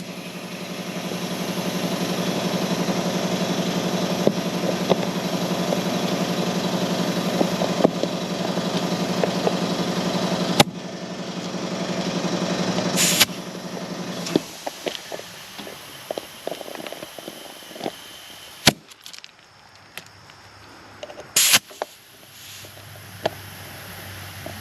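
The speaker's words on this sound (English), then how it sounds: "Got the air compressor going, building us up some air." An air compressor runs steadily for a tractor-tire repair with tire sealant, a constant engine-like drone with a low hum that fills the first half, then drops away, leaving scattered clicks, knocks and brief bangs nearby.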